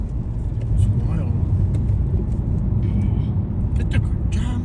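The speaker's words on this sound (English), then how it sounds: "Cars are just flying through here." Cars roaring past on a city street at night in Tucson, Arizona, a loud continuous traffic rumble with passing engines close by and a person talking over it.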